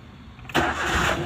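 A Maruti car engine cranks and catches about halfway through, jumping from near silence to a loud, steady idle that runs on with a raised, fast hum.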